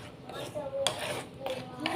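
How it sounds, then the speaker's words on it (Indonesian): A spoon stirs garlic stick dough mixture in a bowl seasoned with pepper, scraping and clinking softly against the sides in irregular strokes, fairly quiet and close. "Aduk-aduk."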